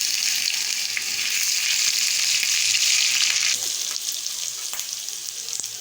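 Garlic and ginger dropped into frying onions for a radish dish hiss in a loud, steady bright sizzle that eases a little partway through, with faint stirring ticks and no voices.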